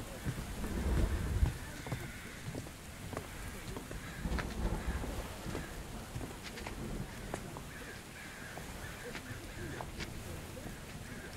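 Steady rain with rumbles of thunder in The Invisible Hours video game, a continuous wash of downpour with low rolls near the start and around four seconds, voices speaking faintly beneath.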